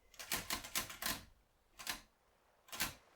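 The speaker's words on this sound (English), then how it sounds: "typewriter at a weirdly high level, but don't mind that" A typewriter in a seaside setting clatters in quick bursts of keystrokes, a rapid run followed by two separate short flurries, close and crisp with no talking.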